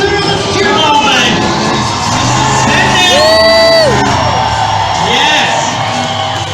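A crowd cheers and whoops at a West Coast monster truck nationals event, a steady roar running the full length under a loud announcer's voice.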